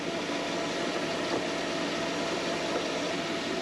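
A 1952 Chevy Deluxe with 54,000 original miles idles steadily, a constant even engine hum with broadband hiss and no change in level, heard alone without talk.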